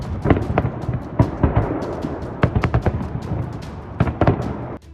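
Fireworks on Defenders of Fatherland Day: sharp bangs and crackling pops burst irregularly over a continuous rumbling backdrop, loud and fairly close.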